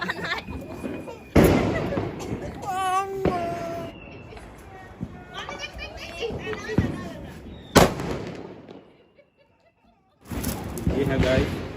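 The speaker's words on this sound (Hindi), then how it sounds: "अब हम लोग आए हैं ऊपर सब काम से फ्री होके फटाके फोड़ने।" Diwali firecrackers bursting outdoors: several sharp loud bangs and crackles spread through the clip, mixed with excited voices and whistling fizzes, and one brief quiet gap before the final bursts.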